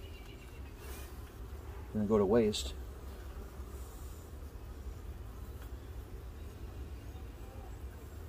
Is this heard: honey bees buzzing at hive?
yes